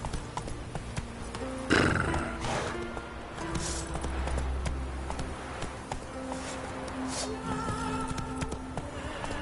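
Roach the horse in The Witcher 3 gives a loud neigh over the steady clip-clop of hooves, the hoofbeats continuing under game ambience and occasional voice.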